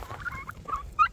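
Chickens on a homestead giving a few short, faint clucking calls close by, all within about a second.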